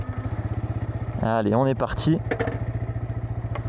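A 2023 Yamaha R125 motorcycle engine running steadily at a rhythmic idle close by, under a brief spoken phrase in French, with the engine pulse continuing alone afterward.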